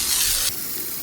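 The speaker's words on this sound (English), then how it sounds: "Some of these stains are not coming out too easily, so we've got out the pressure washer." A pressure washer blasts a travertine patio stone to lift stubborn stains, a loud steady hiss of spray that cuts down abruptly halfway through to a softer rushing.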